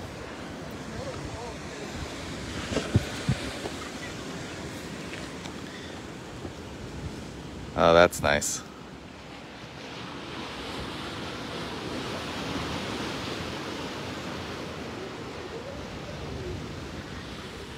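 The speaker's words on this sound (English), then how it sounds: "Man, you could really hear the waves." Ocean waves wash steadily against the Chatan sea wall in Okinawa, a constant broad surf roar mixed with wind, heard from nearby while a person briefly talks midway.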